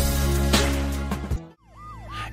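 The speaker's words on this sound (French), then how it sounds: "Grâce à ce motard courageux, cette ambulance a pu passer à travers." An ambulance siren wails through traffic, loud and close amid roaring road noise and engines, then drops away and resumes with a fainter rising-and-falling tone.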